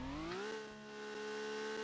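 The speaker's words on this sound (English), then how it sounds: "Oh yeah, listen to that engine." Sports car engine revving in the Madalin Stunt Cars video game, a smooth synthetic engine tone climbing in pitch then holding steady at high revs, loud and alone.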